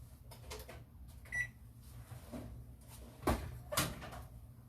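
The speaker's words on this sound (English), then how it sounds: "let me get that out of the oven because I want it to start cooling, and then also turn that oven off" A pie comes out of a home oven and the oven is switched off: a clunk near the start, then two sharp knocks and clatters of the door or rack later on, over low kitchen hum without talk.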